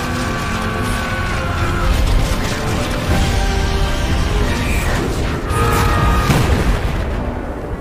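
Loud explosion in a Castlevania animated film as Trevor blows himself up together with Death, a dense rumbling roar with heavy low booms and crackling debris sustained throughout, swelling again near the end.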